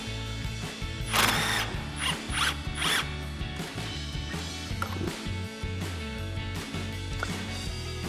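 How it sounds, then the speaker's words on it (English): A 24mm socket on a ratchet tightens the front strut top mounting nut on a 1994-2004 Mustang, with fast clicking ratchet bursts around the second and third seconds and lighter mechanical clicks afterward, close and alone. "Now we'll tighten down our top mounting nut with our 24mm socket."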